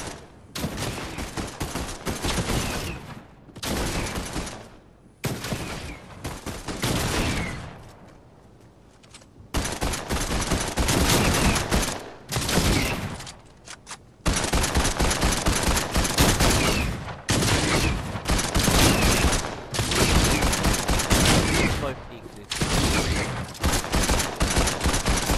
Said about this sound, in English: I've got the dual pistol, baby.